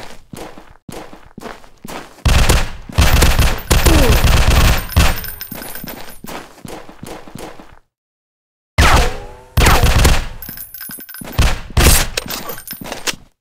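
Gunfire in the mobile FPS game Gun Strike War: rapid automatic bursts and single shots, loud and close, in clusters separated by a brief silence, with footsteps and metallic game effects between them.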